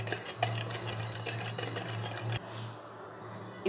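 Spoon stirring eggless cake batter in a bowl after vanilla essence goes in, a steady close scraping and swishing that runs for a few seconds, then drops off abruptly to a quieter hum.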